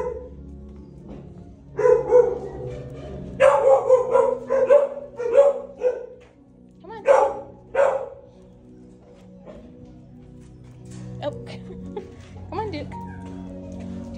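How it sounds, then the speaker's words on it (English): A leashed dog in a shelter ward barks loudly in repeated close bursts, clustered then pausing, with people talking around it. "That's a loud dog, Duke."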